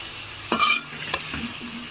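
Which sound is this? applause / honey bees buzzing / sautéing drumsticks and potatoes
sautéing drumsticks and potatoes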